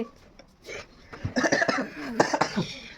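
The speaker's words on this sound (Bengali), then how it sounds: "বেশি হাসলে কাশি লাগে" A person coughing after laughing, a few short rough coughs and breathy bursts with some voices in the background.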